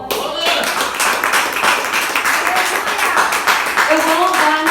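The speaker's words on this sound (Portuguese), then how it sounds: "Você pode aplaudir o Senhor?" A church congregation applauds, a dense, sustained wash of many hands clapping close by, with a voice rising over it toward the end.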